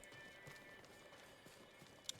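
A horse galloping in the video game Ghost of Tsushima, heard as a faint, quick clip-clop of hooves low in a quiet, noisy background.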